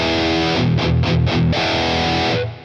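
Electric guitar through a Boss Katana amp's Metal Zone setting at full gain distortion, thick saturated chords with heavy low mids ringing out, a short burst of choppy chugged strums in the middle, loud and up close with no talking.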